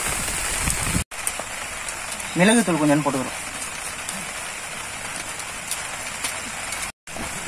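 A light outdoor drizzle patters steadily on surfaces during outdoor cooking of egg paniyaram, a soft hiss running underneath. A voice speaks briefly partway through.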